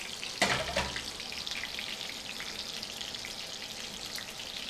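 A sharp splash and hiss at the start settles into a steady, bright sizzle of chicken Milanese frying in a pan, close by, with no voices.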